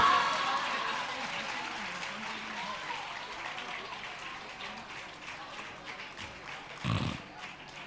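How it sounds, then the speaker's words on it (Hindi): An audience at a Jain religious gathering applauds a prize-winning student, sustained clapping that gradually fades over several seconds with some background voices mixed in. "जोरदार तालियां यहाँ उपस्थित आर्या महानुभाव इनके सम्मान में बजाएं"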